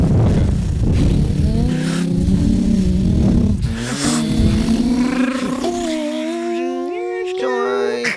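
A person vocally imitates a car engine revving, producing a rising, growling, throaty drone that climbs in pitch and then thins into higher wavering tones; close, loud and steady for several seconds.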